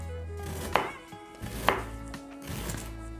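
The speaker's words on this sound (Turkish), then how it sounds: "eldivenlerimizi de taktığımıza göre artık doğrama işlemine başlayabiliriz" A knife thinly slicing vegetables for a pickle salad, heard as three slow, sharp strikes against a cutting board, close and distinct over a steady background hum.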